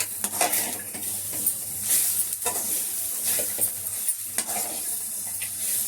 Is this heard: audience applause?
no